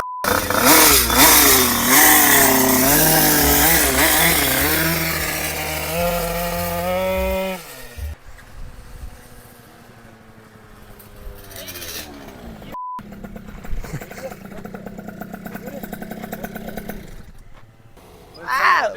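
A Yamaha Aerox scooter engine revs loud and close, its pitch rising and falling, then settles into a rougher idle with a knocking exhaust pipe; people talk over parts of it.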